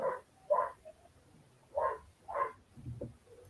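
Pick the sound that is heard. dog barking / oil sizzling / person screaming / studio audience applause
dog barking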